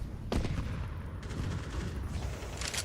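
Explosions from grenades thrown back and forth in a competitive shooter match, sounding as a dense, continuous rumble of blasts and gunfire with sharp bursts near the start and end, no voices over it.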